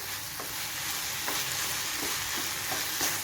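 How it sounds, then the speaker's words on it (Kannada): Tomato and onion fry in oil in a pan, a continuous close hiss and sizzle with soft periodic scrapes as they are stirred, no voices over it. "ಇದ್ರ ಟೊಮೆಟೊ ಮತ್ತು ಉಳ್ಳಾಗಡ್ಡಿ ಒಳಗಿನ ಹಸಿ ವಾಸನೆ ಎಲ್ಲ ಹೋಗುವವರೆಗೂ ಚಲೋ ತಂಗೆ ಫ್ರೈ ಮಾಡ್ಕೋಬೇಕು"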